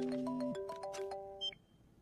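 A phone call connects with a short ringing and electronic tone sequence, faint and brief, ending in a small beep.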